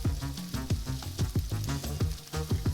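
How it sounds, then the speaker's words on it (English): Salmon fries in a tablespoon of oil in a skillet over medium heat, giving a close, continuous sizzle with quick rhythmic crackles and ticks. "In a skillet over medium heat, add 1 tablespoon of oil, then add the salmon."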